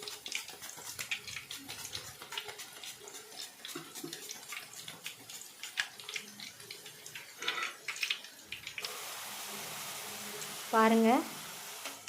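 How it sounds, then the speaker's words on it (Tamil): Raw plantain slices frying in hot oil, a steady close sizzle with bubbling and occasional stirring, while a person talks over it. "பிறகு வாழைக்காவை எண்ணெயில் முக்கிட்டு வேகமாக சீவி எடுத்துக்கிடலாம்."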